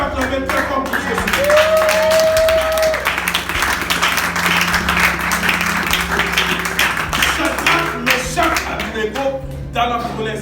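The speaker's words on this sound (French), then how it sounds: "Est-ce que quelqu'un peut acclamer très fort pour Jésus?" A church congregation at a pastor's sermon claps and cheers loudly for Jesus. Brisk, dense applause fills the room, with voices calling out and a sustained shout rising above the clapping.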